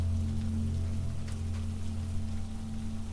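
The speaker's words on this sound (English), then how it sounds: "the ocean spoke in deeper tones now, a slow and steady breathing sound beneath the rain" Steady rain falls over an island coast with the ocean rumbling low and constant underneath, a dense unbroken wash throughout.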